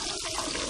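Cold water runs from a tap into a sink in a steady, close, continuous flow, with no voices over it.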